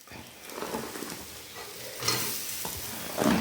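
Grated coconut goes into a hot pan with sautéed mushroom masala after the flame is switched off, producing a soft sizzle and stirring scrapes that swell near the end.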